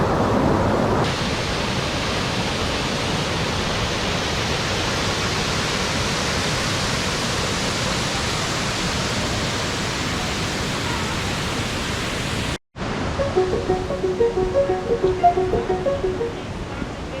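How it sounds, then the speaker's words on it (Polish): Wielka Siklawa, Poland's tallest waterfall at 70 metres, falls in two or three streams in the Tatra mountains; a loud, steady, broadband roar of water runs throughout, broken by a brief cut near the end. "Wielka Siklawa jest największym wodospadem w Polsce, mającym 70 metrów wysokości"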